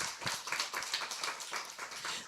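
A church congregation applauds during a Christmas sermon, a soft, steady patter of many hands that sounds fairly distant and quiet.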